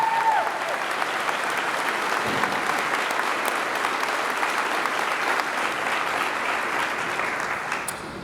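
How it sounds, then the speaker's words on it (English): Audience applause at a class day ceremony honoring a volunteer award winner, a dense, steady wash of clapping from a sizable crowd, sustained evenly throughout and tapering slightly at the end. "please give a round of applause to our Mustang Fund Volunteer of the Year, Shelley Wiggum."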